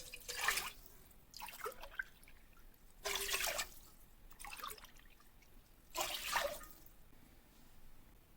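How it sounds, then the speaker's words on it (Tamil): Three cups of water poured into a pan for orange kesari, heard as distinct splashing, trickling bursts about every second and a half, fairly close and moderately quiet, with no talking. "3 கப் தண்ணி ஆட் பண்ணுறேன்."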